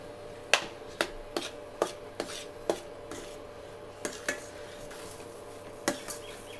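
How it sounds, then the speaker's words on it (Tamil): A spoon or spatula scraping and knocking in a pan of thickening musk melon kesari, a series of sharp, irregular taps and scrapes over a faint background, with no talking. "எல்லாமே நல்லா கெட்டியாக வர வரைக்கும் கைவிடாமல் கிளறுங்க"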